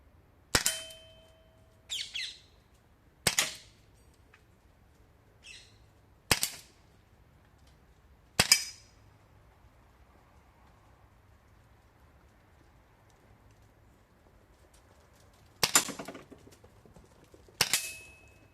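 Beretta 92 FS XX-TREME 4.5mm CO2 air pistol fired in double action at 10 metres, sharp isolated cracks spaced a few seconds apart, with faint metallic clicks between shots in a quiet room.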